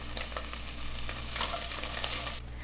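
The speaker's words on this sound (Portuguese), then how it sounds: "agora eu vou adicionar aqui 100 gramas de charque para fritar juntamente com esse bacon" Charque frying alongside bacon in a pan: a steady, close sizzle with light crackling and occasional stirring scrapes, dropping slightly in level near the end over a low background hum.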